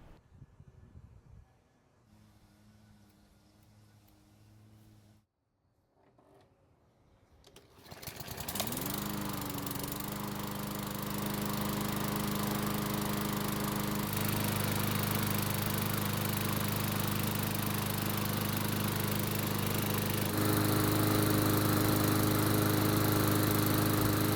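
A small Craftsman lawn mower engine that had not been starting sputters after priming, goes quiet, then starts and settles into a steady, loud running drone that continues to the end.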